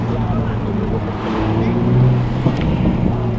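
Engine of a 2020 Toyota Supra pulling in second gear, a dense low rumble that swells gradually with wind buffeting, heard from inside the car.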